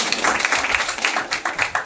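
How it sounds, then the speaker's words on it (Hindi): Audience applause at a Nagpur wellness-business income testimonial gathering: a dense, steady wash of many hands clapping together, fairly close, with no voices over it. "इनके लिए एक बार जोरदार तालियां।"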